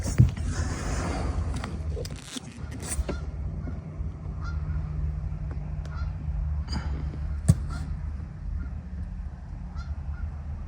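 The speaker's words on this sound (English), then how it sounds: "the geese are on the golf course" Geese honking repeatedly on a golf course outdoors, the calls sitting amid a steady broadband wash of outdoor ambience with a few sharper honks standing out.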